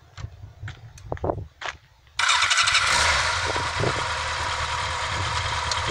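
A Kawasaki KZ1000 police motorcycle engine cranks and catches near the start, bursting into a loud, steady running roar that holds through the rest, after a few faint footsteps and light handling sounds.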